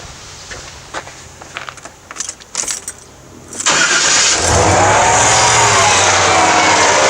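A Chevy GM V8 with throttle body injection is cranked after a few clicks and handling noises, catches quickly and settles into a loud, steady idle that runs to the end, with no talking.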